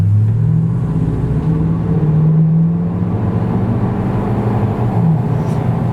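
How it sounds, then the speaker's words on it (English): A 2015 Toyota Tundra pickup's V-8, on 35-inch tires and lifted on BDS suspension, runs with a steady, smooth low rumble and whir, idling or cruising evenly close by with faint pitch shifts and no talk. "it's a really smooth engine"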